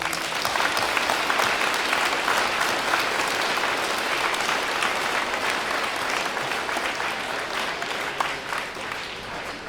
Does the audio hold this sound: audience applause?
yes